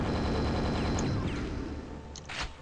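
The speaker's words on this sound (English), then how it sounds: "I will use the nail gun on this guy" A nail gun in the game Quake fires a rapid, continuous stream of metallic shots, loud and steady, with a few sharper clicks near the end.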